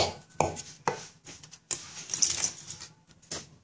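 Peeled garlic cloves are pounded and crushed for al faham, giving several sharp, close thuds and scraping crunches in an irregular rhythm with short pauses between strikes.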